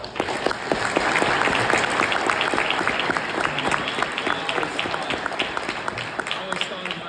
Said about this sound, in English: So how about a round of applause for yourself?